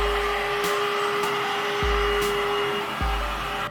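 Cordless vacuum cleaner with a freshly replaced Li-ion 18650 battery pack runs steadily on a workbench, a loud, even whine with faint bumps and clicks as it moves over the surface, no talking.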